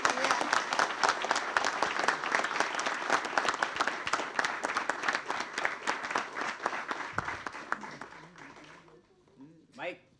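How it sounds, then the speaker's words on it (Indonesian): A studio audience claps and cheers for three contestants on an Indonesian comedy show, dense sustained applause that fades out near the end, followed by a voice. "Tepuk tangan dulu kepada ketiga peserta."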